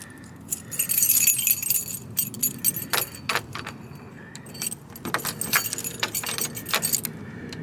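Car keys for a 1970 Chevelle jangle close by in several bursts of bright metallic clinking, with short pauses between shakes and quiet room tone underneath.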